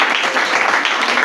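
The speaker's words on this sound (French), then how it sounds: "Acclamons la parole de Dieu" A church congregation at a Sunday service applauds, a dense, steady wash of many hands clapping together, loud and close, sustained for just over a second with no speech.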